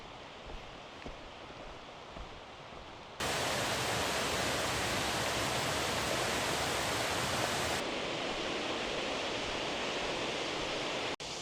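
Aros Waterfall on the Isle of Mull with its stream running down the valley, a steady broadband rush of falling water that is softer at first, then loud and close for several seconds before easing back.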